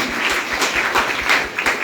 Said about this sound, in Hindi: एक बार यशवंत भैया और यहाँ की इंटायर टीम के लिए एक बार ताली बजा दीजिए।